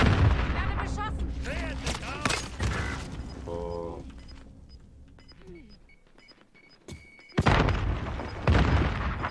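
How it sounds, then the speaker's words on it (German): Gunfire and explosive booms in Call of Duty Warzone, several sharp loud bursts at the start and again near the end with mechanical clanks between, under excited players talking. "Werde beschossen."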